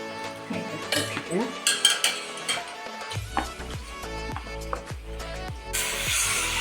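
Quail pieces go into a cooking pot with clinks and knocks of utensils against metal, then the pot breaks into a burst of sizzling near the end. A person talks over the first part.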